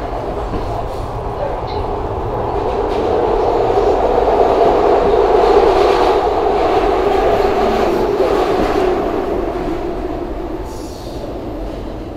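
A SEPTA Market-Frankford Line subway train rumbles steadily along the rails, the noise swelling and fading over several seconds, heard loudly from inside the car.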